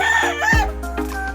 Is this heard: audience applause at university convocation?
no